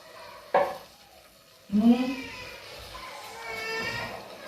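Mustard oil sizzles in a pan as bottle gourd cooks, with a sharp metal clank, a hissing burst and a low steady frying crackle underneath, and a voice faintly present.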